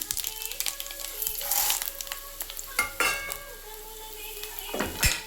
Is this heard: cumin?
yes